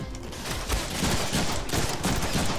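Gunfire in the Deadpool video game, a dense, loud and continuous fusillade of rapid shots layered over noisy combat clamor.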